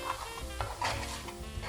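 A spoon stirs a teaspoon of desi-style spice frying in a pan over low gas for a lamb shank curry, soft scraping strokes over a faint, steady sizzle, close and brief.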